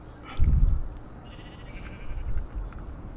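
A goat bleats once in a video game, a short low cry near the start followed by a fainter second call, with no talking over it.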